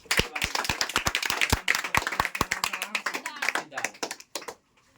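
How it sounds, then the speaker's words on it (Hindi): A small audience claps at a school question-and-answer event, sharp distinct claps in a quick, somewhat uneven rhythm, growing sparser and stopping near the end, with faint voices in the background. "तो जोरदार तालियां"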